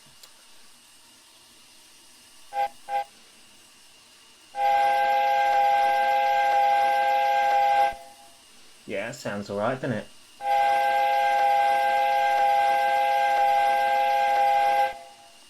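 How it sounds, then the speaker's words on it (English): A Sentinel locomotive's chime steam whistle in Train Simulator 2022 sounds in two long, steady blasts after a couple of short toots, with someone speaking briefly between the blasts. "It's a nice sounding whistle. It sounds like a Sentinel chime"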